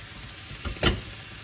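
Onions hiss and sizzle in a little tuna oil, a soft steady fry punctuated by a brief stir and a sharper burst of sizzling, with no talking.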